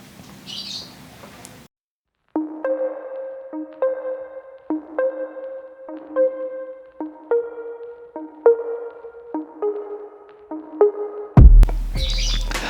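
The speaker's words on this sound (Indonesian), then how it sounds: "Lingkungan syuting, ya, ada suara burung." A series of short, tonal calls repeats at a steady pace, each a bright chirp-like note, fairly close and clear against a quiet background.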